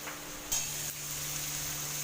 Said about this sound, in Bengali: তো পেঁয়াজটা ভাজা হচ্ছে